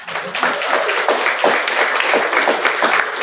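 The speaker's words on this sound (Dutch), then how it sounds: "Een applaus voor hun." Loud, dense applause from an audience at a family celebration, continuous clapping filling the room close by for the whole stretch.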